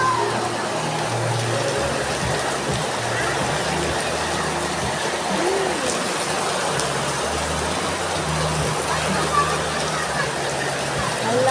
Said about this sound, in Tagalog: sobrang lakas na naman ang ulan